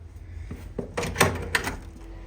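Interior door leading to a covered side entrance, heard as a few close clunks and rattles of the latch and frame as it is opened, over a quiet room.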